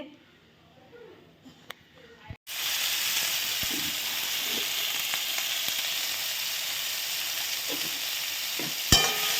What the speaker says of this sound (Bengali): কড়াইতে তেল দিলাম, দেখতে থাকুন